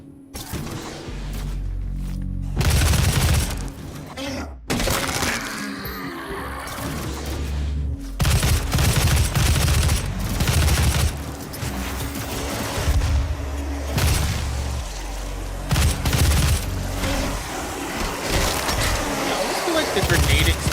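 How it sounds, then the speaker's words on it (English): Booming grenade blasts and bursts of gunfire from the 2016 DOOM shooter, loud and uneven with sharp bangs and dropouts, mixed with game effects and someone talking over the action. "The grenade explosion should be bigger."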